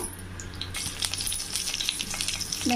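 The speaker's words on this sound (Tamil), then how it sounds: "கொஞ்சம் ஜீரகம், ஒரு பிரிஞ்சி இலை, இது பொரியிட்டுங்க." Oil crackles and spits steadily as cumin seeds and a bay leaf fry, with small pops and clinks over a continuous sizzle, fairly close.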